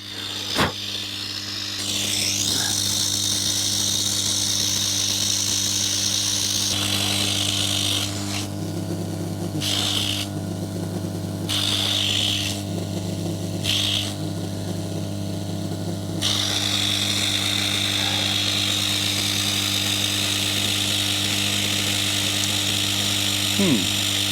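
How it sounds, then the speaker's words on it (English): A pressure relief valve blows off with a steady, hissing rush over a constant low mechanical hum, close and sustained, briefly changing character midway before resuming. "So that relief valve seems to be blowing."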